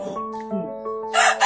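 A rooster crows in short tonal bursts, followed by a sharp burst of squawking close by.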